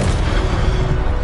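Levioso spell effect in the Hogwarts Legacy video game, a brief, loud, dense rushing burst that fills the whole moment without pause.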